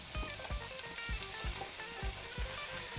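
Onions frying in oil in a pan, a soft, steady sizzle with regular spoon scrapes or taps about twice a second, close but fairly quiet with no talk.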